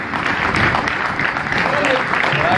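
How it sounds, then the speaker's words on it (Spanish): An outdoor audience at a duathlon award ceremony gives strong, continuous applause, with a voice over a loudspeaker heard faintly in the mix. "Fuertes aplausos"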